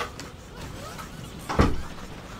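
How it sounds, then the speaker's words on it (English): A room door swung shut with a single dull, close thud near the end, preceded by faint shuffling and low room noise. "I'm just going to put my phone down and close my door."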